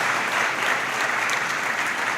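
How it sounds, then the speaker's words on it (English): An audience gives a round of applause, with steady clapping from a crowd at an awards ceremony that stays even throughout the short stretch, fairly close and without talk. "you all give my staff a round of applause, please"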